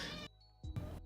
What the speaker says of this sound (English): why do you meow so loud?